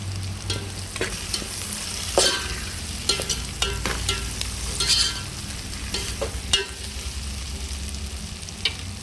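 Potato pieces and curry leaves fry in a pan with a constant close sizzle, broken by frequent stirring scrapes and clicks of a spatula and no talk.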